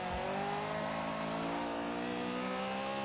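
An Acura RSX with an all-wheel-drive build in Forza Horizon 3 accelerates hard, its engine note climbing steadily at high revs in a loud, continuous drone without a break.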